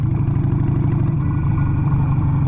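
A motorcycle rides along a loose, dusty dirt road on the Estrada Real in Brazil with its rear end sliding, producing a steady, loud, close engine drone with a rough, pulsing texture and no speech.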